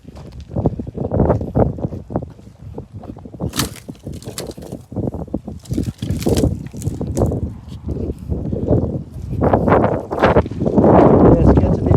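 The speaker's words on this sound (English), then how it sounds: "Yes, it gets a bit windy out here in the desert sometimes." Gusty desert wind buffets the microphone in heavy, uneven bursts at a camp, rumbling low and loud throughout, with a few brief clatters mixed in.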